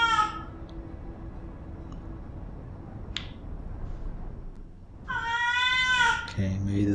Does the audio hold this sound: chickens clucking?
no